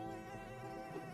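A buzzing insect sound in the video game Dofus, where a mosquito is thrown as an attack: a steady, droning whine that holds for about a second, loud and alone over a dense game soundtrack.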